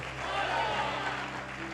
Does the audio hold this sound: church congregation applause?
yes